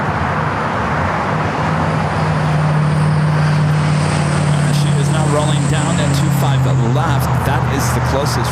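A Boeing 777 airliner on the runway at LAX gives off a steady, loud jet engine roar with a low droning hum. The sound swells slightly over several seconds amid open airfield noise.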